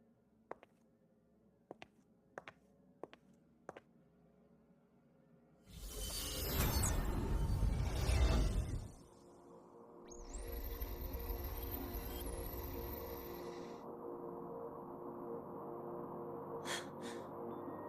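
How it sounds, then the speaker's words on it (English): White noise from a cassette played back in the video game Wuthering Waves: a few sharp clicks, then a loud rough hiss burst, followed by a steadier softer hissing hum with a high tone layered over part of it. "sounds like white noise."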